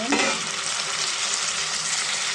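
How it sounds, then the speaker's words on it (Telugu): Tomatoes drop into a pan of frying onion, garlic and ginger-garlic paste, bringing a loud, steady sizzle with a brief stirring clatter at the start, no voices. "ఇప్పుడు దీంట్లో టమాటాలు వేసేద్దాం"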